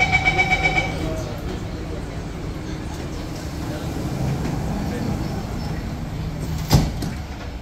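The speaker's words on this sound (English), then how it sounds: "doors are closing." An SMRT C151B train's doors close with a short series of warning chimes followed by a sliding thud, then the hum of the carriage under an onboard announcement voice.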